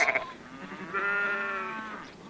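A shepherd's sheep bleat: a short wavering call at the start, then a longer, steady, clearly voiced bleat that holds for about a second before fading, close and moderately loud.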